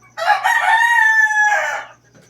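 A rooster crows once, a long, loud, close call with a stuttering start and a drawn-out falling end, among farm fowl outdoors.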